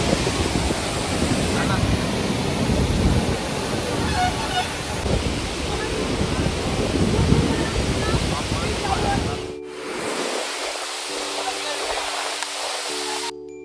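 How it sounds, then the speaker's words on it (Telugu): Strong flowing water surges and splashes high, a loud continuous roar with wind buffeting the microphone; it cuts out abruptly near the end, leaving quieter water. "ఇక్కడ నీటి యొక్క ఫ్లో మాత్రం వేరే లెవెల్లో ఉంది"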